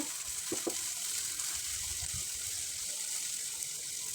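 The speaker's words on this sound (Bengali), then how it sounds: "রসুনগুলো ভালোভাবে ভেজে নেব" Garlic paste fries in oil with fried chopped onion in the pan, making a steady, even hiss with a couple of faint soft knocks near the start.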